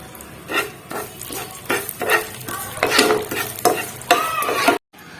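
Poppy seeds sizzling in hot ghee while a spoon stirs them in the pan, with irregular scraping strokes over a steady crackle, close up, ending in a brief cut to silence.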